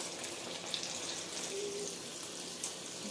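Fish nuggets frying in oil in a small skillet, a steady soft hiss and crackle close by with occasional faint pops, no voices.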